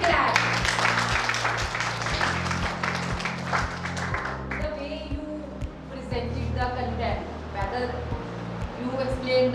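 Audience applause at a school innovation and creativity fest, with dense clapping in the first few seconds over steady rhythmic music that carries on as the clapping thins out.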